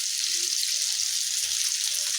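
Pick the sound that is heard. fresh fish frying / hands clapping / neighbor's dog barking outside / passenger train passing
fresh fish frying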